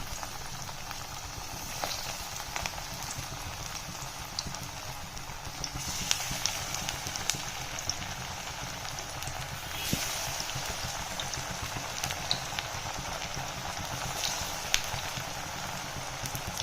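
Banana flower vadas deep frying in hot oil give a steady, dense bubbling crackle throughout, with occasional sharper pops and spits, moderately close and without any talk.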